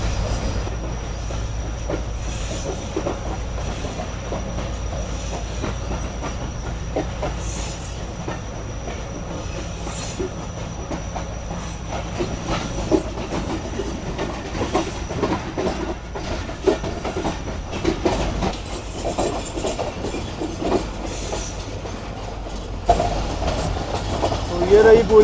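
The Sukkur Express passenger train, Queen of Sindh, runs on rails from Karachi to Sukkur with a continuous rumble, rhythmic wheel clatter and occasional squeal, heard from on board with voices talking now and then.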